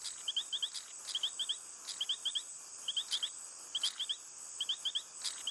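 A frog call played back from a speaker in the Amazon rainforest of French Guiana, a faint repeating pattern of quick double chirps in regular groups over a steady high insect drone.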